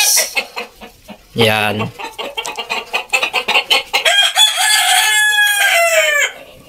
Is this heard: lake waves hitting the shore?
no